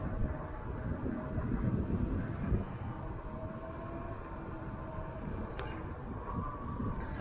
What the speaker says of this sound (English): Yeah, it's pretty windy.